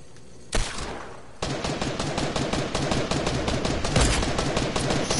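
Gunfire from a video game with a sniper in play: one sharp shot rings out, then a long stretch of rapid, dense firing continues loudly, with no speech.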